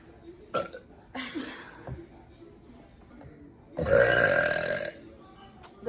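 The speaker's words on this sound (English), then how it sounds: "You want to burp for the camera?" A loud, drawn-out belch lasting about a second, with a shorter burp-like noise earlier on and brief voices and rustling around it, all close to the microphone.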